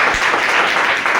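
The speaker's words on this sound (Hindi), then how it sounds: "लोगों ने एक बार जोरदार ताली।" An audience applauds at a presentation event, a loud, dense burst of clapping lasting about a second.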